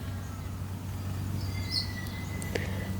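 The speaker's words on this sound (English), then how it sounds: "You'll hear a few birds today because we're out in the garden." A few faint bird chirps in a quiet garden, short high calls scattered over a steady low hum, with the birds sounding distant and sparse.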